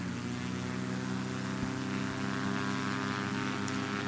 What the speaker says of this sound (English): You want to get up to full throttle and about 2850 RPM, which is looking good on the RPMs